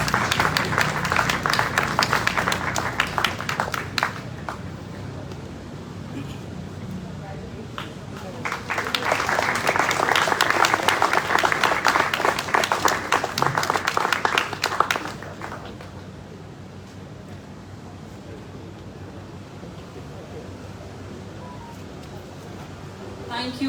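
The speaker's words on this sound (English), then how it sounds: "May we please welcome him with a big round of applause." Audience applause welcoming a guest at an Indian Independence 75th anniversary celebration, with two dense bursts of clapping separated by quieter stretches of murmur, fading out after about fifteen seconds.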